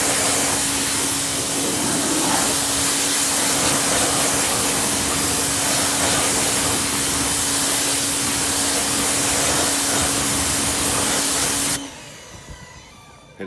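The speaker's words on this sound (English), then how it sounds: "Hit it with the power washer and you're all done." A power washer sprays water onto a car in a steady, loud, close hiss with a faint tonal hum underneath, cutting off abruptly near the end.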